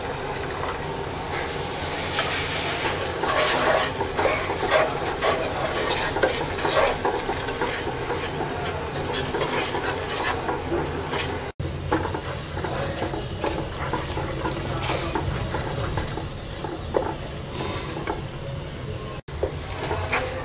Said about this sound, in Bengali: এবার সামান্য একটু পানি দিয়ে মশলাটা 2 মিনিট কষিয়ে নেব